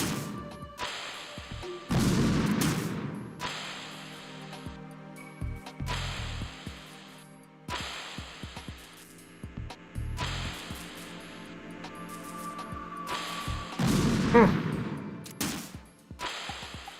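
Bursts of gunfire in Metal Gear Solid 2, arriving as a series of sharp, separate impacts and short volleys spaced a few seconds apart, with one heavier crash near the end.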